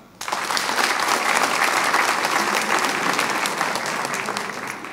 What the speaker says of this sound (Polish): Poproszę brawa.